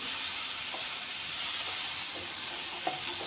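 Tomatoes frying in a pan give a steady, dense sizzle that runs unbroken throughout, with a few faint clicks of stirring rising briefly above the hiss.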